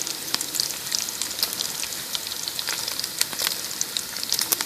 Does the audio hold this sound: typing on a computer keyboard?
no